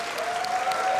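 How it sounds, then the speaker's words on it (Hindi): An audience on a Hindi talk show applauds the guest with a brief, even burst of clapping, moderately loud. A faint steady tone runs underneath. "तालियां होनी चाहिए अजहर भाई के लिए।"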